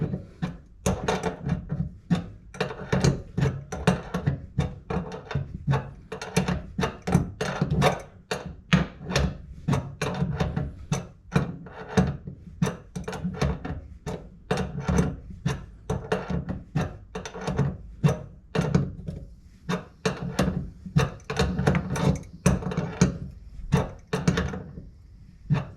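Repeated sharp clicks and knocks from tightening a fitting on a new toilet shut-off valve, a close, irregular series of metallic and hard taps lasting throughout with no talk.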